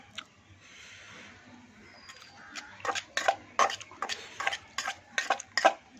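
Sliced star fruit (kamranga) and salt are mashed together in a bowl with a utensil, giving a run of quick, uneven scraping clicks that grows busier and louder after a quieter, hissy start.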